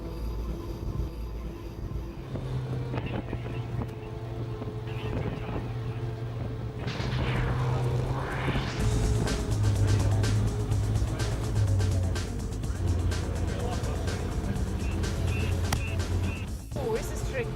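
A military tank's engine rumbles steadily as it pulls away, with tracks and machinery clattering and a rising whine partway through; people talk over the noise near the end.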